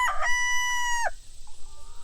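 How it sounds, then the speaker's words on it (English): A black leghorn rooster named Mohawk lets out one loud, close crow with a sustained ringing call, followed by a softer clucking note. "anytime we talk, the roosters have got to crow"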